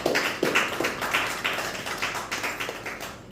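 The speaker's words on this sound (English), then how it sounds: "Please give her a round of applause." Small audience at a hospital handover ceremony clapping in uneven bursts, individual claps fairly close and distinct rather than a dense roar, fading slightly over a few seconds.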